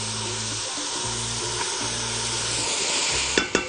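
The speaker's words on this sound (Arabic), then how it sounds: "حط عندي شويه زيت، البصل الابيض" White onion frying in oil in a pan, a steady dense sizzle throughout with a few soft stirring knocks near the end and no talking.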